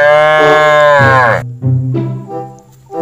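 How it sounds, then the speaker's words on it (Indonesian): A calf lets out one long, loud moo lasting over a second, followed by a few shorter, softer bovine grunts and calls close to the listener. "Wow, anak sapi"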